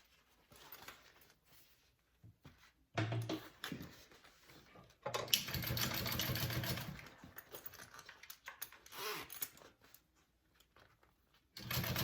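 Sewing machine top stitching a fabric bag in quiet, close bursts of rapid needle chatter, stopping and starting several times, with soft handling noises between runs.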